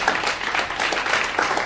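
Brief burst of dense applause and clapping from an audience at a vigil gathering, steady and fairly loud throughout.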